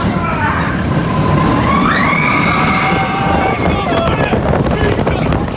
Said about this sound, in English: The train accelerates into a fog with spiral curves taking mountaineers down an 80-foot plummet